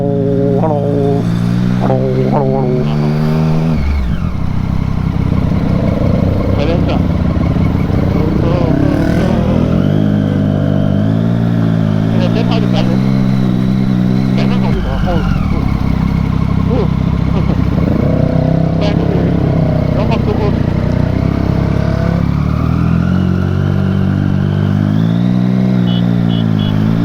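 ATV engines rev and drone continuously at close range while riding, pitch rising and falling with throttle, with people talking over the engine noise.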